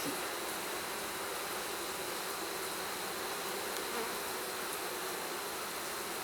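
Honeybees buzz steadily around an open hive being readied for winter, a dense continuous hum filling the whole stretch with no voices.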